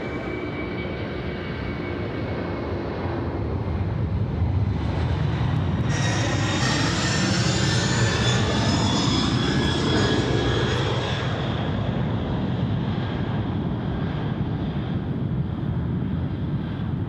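A Singapore Airlines Boeing 747-400 rolls for departure to Auckland at Sydney Airport, its engine roar building after a few seconds into a loud, sustained thunder with a whining tone layered on top, then settling slightly, with no voices.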